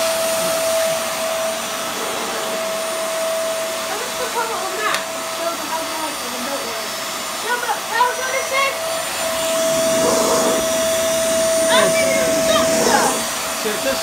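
A vacuum cleaner runs steadily on a hard floor with a constant whine and hiss; the noise swells louder near the end, and faint voices come through underneath.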